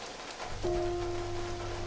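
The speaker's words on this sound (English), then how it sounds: "I can only imagine how big that rain was in real life" Heavy rain from a movie scene in Planet Terror or Death Proof falls as a steady hiss, with a sustained tonal hum entering partway through.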